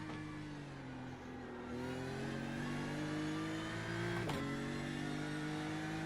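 A diesel race car in the iRacing simulator revs steadily, its engine tone rising in pitch over several seconds with a brief blip near the end, loud and continuous with no talking.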